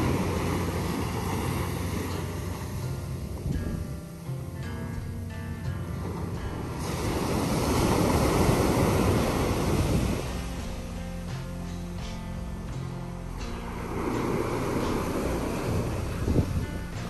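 Ocean waves wash steadily onto a beach at Cabo San Lucas around sunrise, a continuous broadband surf roar with slow swells and some wind buffeting on the microphone, no voices.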